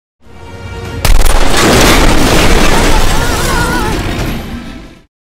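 Gunfire and explosions in a Resident Evil zombie film battle against a monster: a sudden heavy boom about a second in, followed by a dense, sustained roar of blasts and shots, loud and close, with voices mixed in.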